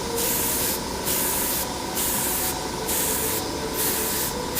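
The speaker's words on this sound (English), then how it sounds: "so I have to actually spray this at many different directions" Airbrush hissing paint onto a plastic model kit, a continuous close spray broken into bursts that swell and ease roughly every second as the angle changes, loud and alone without talk.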